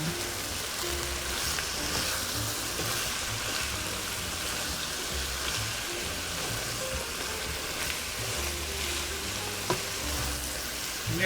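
Broccoli rabe and sausage sizzle in a pan as the drippings get stirred through. A dense, steady hiss of frying runs the whole time, close up, with occasional soft scrapes and clicks from the stirring and no voices.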